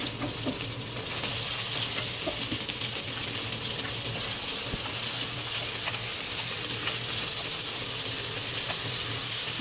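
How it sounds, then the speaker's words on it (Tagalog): Onions frying in olive oil keep up a steady, close sizzle and crackle that runs without a break, with no voices over it. "Olive oil. Fry na natin yung ating onion."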